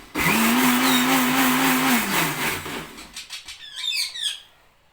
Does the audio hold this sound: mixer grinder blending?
yes